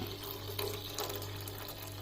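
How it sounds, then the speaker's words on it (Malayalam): Water from boiled nutmeg rind poured into sugar syrup for nutmeg squash, a steady soft trickling stream, fairly quiet and continuous with a low background hum. "ജാതിക്കായുടെ തൊണ്ടിൻ്റെ കറ ഇളകിയത് നമ്മൾ പഞ്ചസാര പാനിയിലേക്ക് ഒഴിക്കുകയാണ്"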